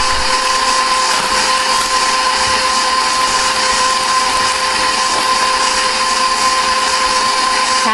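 A loud, steady electric mixer whirs continuously and close, blending almond shortbread dough with an even, unbroken motor whine throughout.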